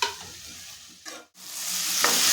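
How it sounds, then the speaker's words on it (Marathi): Washed moong lentils and drumstick pods sizzle while being stirred in hot spice masala for a village-style aamti, a steady close frying hiss broken by a few scraping stirs. "आता इथे आपण धुवून घेतलेली डाळ आणि शेंगा टाकून घ्यायचे आणि छान मसाल्यामध्ये परतून घ्यायचे."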